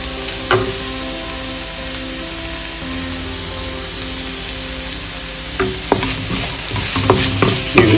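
Crushed ginger and garlic go into onions frying in a pan for a Kerala-style pork roast, a steady close sizzle with scraping stirs and clatters toward the end.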